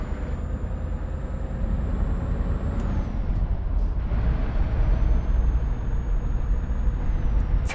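Scania truck in a trucking simulator game: a steady, loud low engine drone holds throughout, with brief air-brake hisses and a faint high whine over it.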